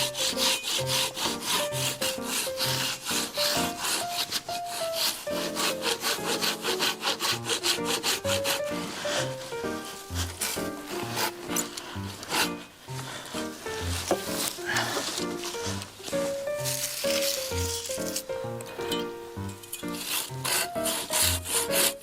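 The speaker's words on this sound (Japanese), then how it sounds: "この疲労度でこれ切るのしんどい。" A hand saw works through wood in a long run of quick, rhythmic rasping strokes, loud and close, continuing steadily with only brief pauses.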